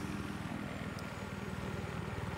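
Helicopter in the video game Battlefield 3, a steady rotor and engine drone with a dense low rumble, continuous and moderately loud, with no talk over it.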